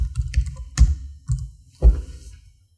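A few separate keystrokes and clicks sound on a computer keyboard, spaced irregularly in small bursts, close and fairly loud, then fading to silence.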